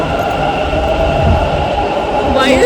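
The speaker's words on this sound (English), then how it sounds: "I'm in metro after so long." Underground metro train riding along, a steady loud rumble with a continuous hum and faint rail noise throughout, a slight screech rising near the end.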